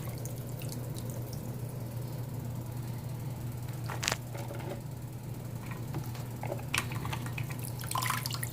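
Tap water running in a kitchen while Irish sea moss is rinsed, a soft steady flow under a constant hum, with a few clattering splashes and knocks near the middle and end.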